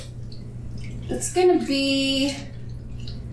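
Water poured into a crock pot of beans for Cajun red beans and rice, a brief splash and trickle lasting about a second, with a voice speaking briefly just before.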